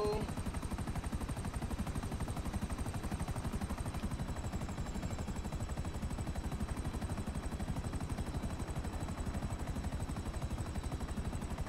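Rapid, continuous automatic gunfire from a rotating helicopter turret in Grand Theft Auto V, a dense steady rattle of shots over a whirring rotor drone, sustained and close throughout.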